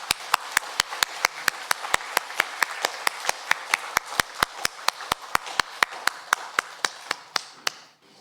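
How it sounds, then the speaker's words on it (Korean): Korean church congregation at a Sunday worship service clapping loudly in unison, sharp evenly spaced claps in a steady rhythm that stops abruptly at the end. "힘찬 박수로 영광 돌립니다"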